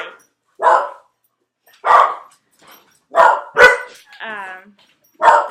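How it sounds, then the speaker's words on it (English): Several dogs bark in short, loud bursts spaced irregularly, with one drawn-out yelping whine among the barks; a nearby voice speaks briefly between them. "Dogs freaking out."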